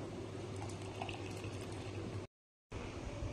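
Soaked tamarind juice poured into a pot of sambar, a steady close liquid splashing and bubbling that cuts out abruptly for a moment before resuming.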